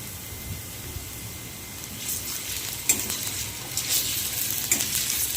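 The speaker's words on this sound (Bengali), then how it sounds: "দিয়ে দিচ্ছি আদা রসুনের পেস্ট" Ginger garlic paste sizzles in hot oil while a pointed gourd and fish head curry is being cooked; the pan is quiet at first, then a steady, close crackling hiss swells and spits in bursts.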